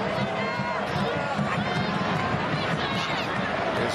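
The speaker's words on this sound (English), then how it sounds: "Great crowd on hand." Steady roar of a large stadium crowd at a USA vs Germany women's soccer match at Dry Pink Stadium, a dense continuous wash of cheering and chatter with no single voice standing out.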